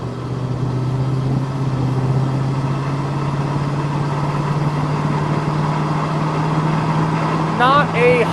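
A 1985 Dodge Ramcharger with a 360 V8 and automatic transmission runs on the road, its engine droning steadily and slowly rising in pitch as it pulls, with a short squeaky sound near the end.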